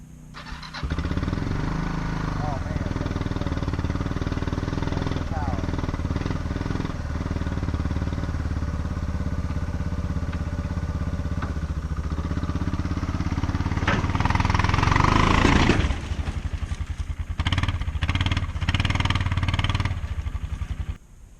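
An idling Honda Foreman ATV engine runs steadily and close by, a continuous low rumble that briefly grows louder around fifteen seconds, then settles back with some rougher bursts near the end.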